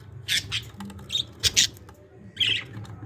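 Budgerigars squawk from inside a nest box in short, harsh bursts that rise and fall in a quick irregular run, with a low steady hum underneath.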